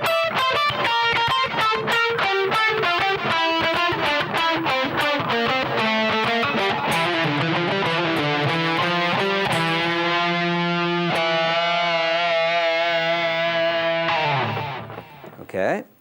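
Distorted electric guitar playing a fast descending sequenced run in G Dorian from the 10th position, rapid picked notes tumbling downward before settling into sustained, vibrato-laden notes that fade out.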